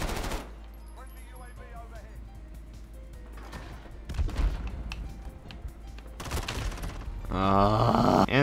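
Call of Duty Modern Warfare gunfire from a CX9, rapid bursts of video-game shots with dense loud clatter building near the end, over a steady game background hum and scattered effects.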